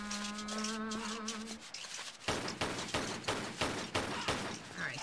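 Gunfire in Tomb Raider 3 Gold: after a brief tonal game sound fades out, a rapid run of evenly spaced shots begins, loud and regular, with rough crackling between them.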